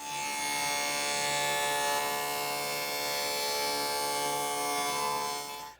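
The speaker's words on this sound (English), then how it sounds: "I need the fence right up against the table saw blade to form the rabbet" A table saw fitted with a dado blade cuts a rabbet against a sacrificial fence while shop cabinet case pieces are built, giving a loud steady whine with strong harmonics that holds for about five seconds before spinning down.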